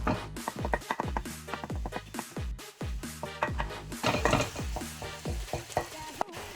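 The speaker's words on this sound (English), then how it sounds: "So we constantly stab the mince because we don't want it to get lumpy." Lamb mince for samoosa filling is stirred and repeatedly stabbed with a utensil in a hot pan, a steady run of close, rhythmic taps and scrapes over a continuous sizzle.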